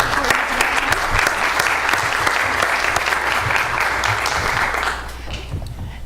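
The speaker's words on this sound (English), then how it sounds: "can we give everyone a round of applause while we're waiting here?" A panel audience at a neuroscience and education event applauds the speakers, a dense sustained wash of many hands clapping that stays loud for about five seconds, then thins and fades.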